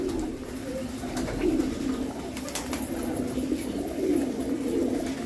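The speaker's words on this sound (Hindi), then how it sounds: "बहुत हसीन हसीन कबूतर है माशाल्लाह इसके अंदर।" Pigeons, including Pakistani white bar breeds, cooing in a breeding setup in Delhi, soft low repeated coos from several birds at close range over a constant background hiss.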